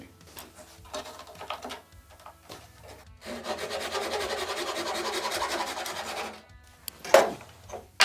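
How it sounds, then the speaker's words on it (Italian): Beech wood strips are cut to 140 mm lengths for a homemade marking gauge. Close, rough sawing strokes grow into a sustained rasping stretch lasting about three seconds, with scattered handling knocks before and after and no speech. "Andiamo subito a tagliare i due listelli da 140 mm."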